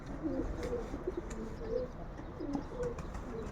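Pigeons cooing near and far outdoors by a palm tree, soft repeated low coos spread through the clip over steady ambient hum, no talking.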